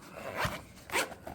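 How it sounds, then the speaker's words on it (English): Zipper pulled shut on a cyclist's bespoke tool case holding a pump, tire levers, inner tube and repair patches, two quick rasping zip strokes close by, alone and fairly quiet. "We close the zip."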